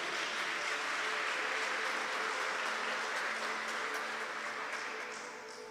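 Audience applause, a dense continuous wash of clapping from a large crowd, steady and fairly distant, tapering slightly at the end.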